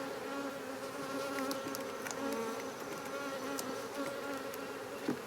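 Honeybees buzz steadily around open hive boxes while nucs are transferred, a dense continuous droning hum with individual bees zipping past close by and occasional light clicks.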